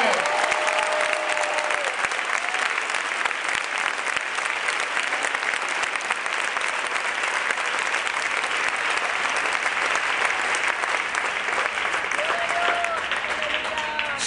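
Sustained applause from a church congregation at an Apostolic service fills the whole stretch, steady and dense, with a few faint voices and cheers rising through the clapping.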